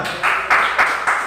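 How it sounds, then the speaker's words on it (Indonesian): A classroom group claps in several short bursts, close and fairly loud, with brief pauses between each burst. "Tepuk tangan."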